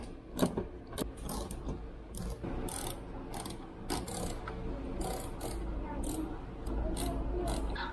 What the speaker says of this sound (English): let's start taking those bolts off.